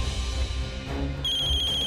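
A telephone starts ringing partway through, a steady high electronic tone over a low background rumble.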